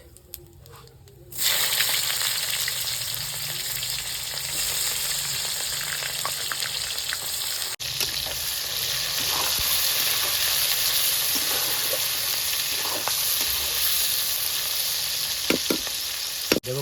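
Onion dropped into hot oil with dried red chillies and whole cumin, a quiet start, then a sudden loud burst of frying sizzle that settles into a steady crackle with occasional stirring clatter, close up and without talk.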